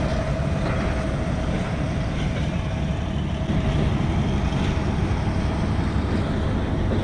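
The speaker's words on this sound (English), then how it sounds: "And this here is my train, heading north." Steady low rumble and broadband hiss of a train waiting at a Transylvanian station in Romania, with a faint constant tone running through, continuous and fairly loud with no talk.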